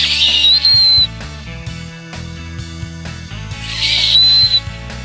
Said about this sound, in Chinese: 我吹那个高频的那个口哨的时候啊，那个海豚会过来